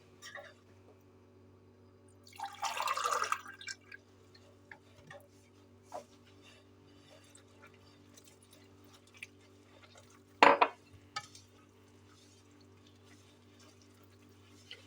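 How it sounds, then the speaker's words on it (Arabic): Warm water splashes into a bowl to begin batbout bread dough in a home kitchen: one brief pour of about a second, followed much later by a sharp clink of a utensil. No one speaks. "دابا غادي نبداو العجين. الماء يكون دافي البنات"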